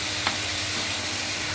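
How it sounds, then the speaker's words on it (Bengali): Dried fish (shutki) fries in oil, giving a steady close sizzle with a brief scrape of stirring near the start. "এখন দিয়ে দিলাম আগে থেকে ধুয়ে রাখা গরম পানি দিয়ে শুটকি"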